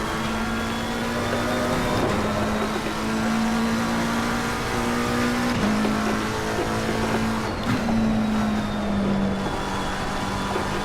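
A Ferrari race car in Assetto Corsa Competizione holds a steady, droning engine note that dips and climbs slightly with gear changes, loud and constant from start to finish.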